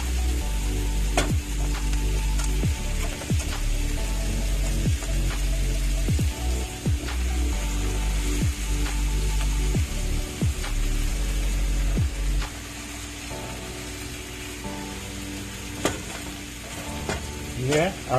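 Fish layered into a Jamaican coconut curry pot on a low stove simmers and sizzles steadily, with repeated soft knocks of fish and utensil against the pot throughout.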